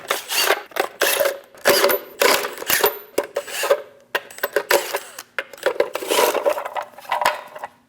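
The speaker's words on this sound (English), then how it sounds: "Using a 22mm socket, remove the 8 lug nuts." A 22mm socket works lug nuts off the front wheel of a 2003-2025 Chevrolet Express, giving repeated clattering metallic bursts of ratcheting and rattling with short pauses between them, close and fairly clear, with no speech.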